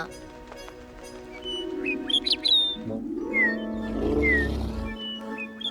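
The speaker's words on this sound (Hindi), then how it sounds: "वो बहादुर चिड़िया भालू के बच्चे को उसके घर ले गई और एक सुरीला गाना भी सुनाया।" A cartoon bird sings a melodious song: bright chirpy whistled notes rise and fall over a humming, voice-like tone, and a low rumbling swell passes midway.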